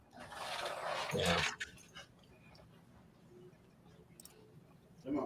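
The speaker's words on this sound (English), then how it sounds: "Let the dogs in." Dogs outside the house whine and whimper to be let in, loudest at the start, then fainter scratching and clicking sounds follow at a moderate distance.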